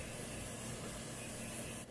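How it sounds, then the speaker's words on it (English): A Tarte Maracuja setting mist sprays onto a face in one continuous soft hiss lasting nearly two seconds, close and quiet, with no talk. "I'm gonna spray myself with this Tarte Maracuja mist"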